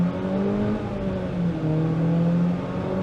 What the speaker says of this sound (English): You can see this engine is struggling a little bit.